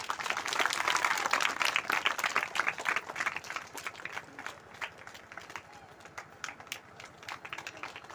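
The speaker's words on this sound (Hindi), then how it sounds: "आप लोग जोरदार तालियों से स्वागत करें।" Audience at a devotional bhajan event gives a loud round of clapping to welcome honoured guests, dense at first and thinning to scattered claps, with talk partly over it.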